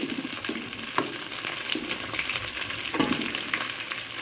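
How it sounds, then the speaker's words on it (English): Coconut milk bubbles and sizzles steadily in a pot with peas, with small pops and stirring sounds throughout. "the coconut milk is boiling"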